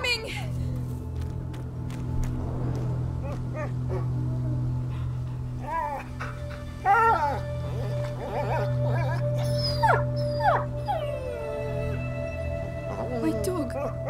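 A dog in the video game A Plague Tale: Innocence whimpers and howls in rising, wavering cries, heard under spoken dialogue and a low ambient drone.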